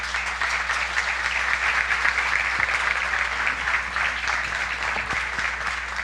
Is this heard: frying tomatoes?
no